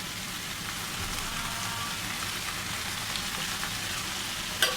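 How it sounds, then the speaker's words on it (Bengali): Fresh spinach leaves dropped into hot oil in a pan for a Bengali spinach and stinging catfish dish, giving a steady, close sizzle and crackle throughout with a brief louder spatter near the end. "এই শাকটা আমি এখন ছেড়ে দিলাম।"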